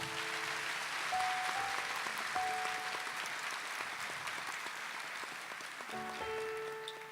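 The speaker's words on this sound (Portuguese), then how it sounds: "Uma salva de palmas para Jesus." Steady, dense applause from a large crowd at a Catholic religious gathering continues throughout, with faint musical tones sustained underneath.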